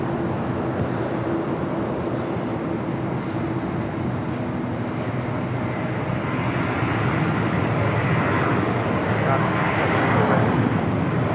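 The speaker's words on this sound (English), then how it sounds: "Next takeoff, United Airlines flight 2237 heading to Houston, Texas, the" A United Airlines Boeing 737-900ER jet taking off at LAX, bound for Houston, gives a loud, steady, broad engine roar that holds throughout and swells slightly toward the end.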